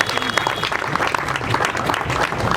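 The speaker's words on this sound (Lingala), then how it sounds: "Acclamez encore pour le chef de l'État" A crowd at a Kinshasa rally applauds for the head of state, with sustained, dense clapping and cheering that keeps up evenly from start to finish, with scattered voices in the mix.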